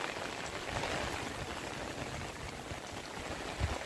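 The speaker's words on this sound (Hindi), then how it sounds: "बहुत ही बारिश हो रहा है।" Heavy rain pours down steadily during the rainy season, a dense continuous hiss of water falling on surfaces, close and even throughout with no voices.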